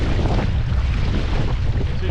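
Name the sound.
wind on a lake heard from a bass fishing boat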